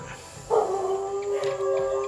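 Dogs howl at night in a quiet setting, a long sustained wavering howl rising from the middle and carrying on to the end, with a second voice joining faintly, heard at a moderate distance.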